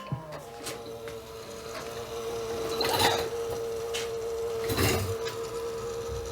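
A PC fitted with an Apevia SFX-AP400W power supply powers back on: a steady mechanical hum and whirring fan drone up close, with a couple of brief rattling swells partway through and no speech.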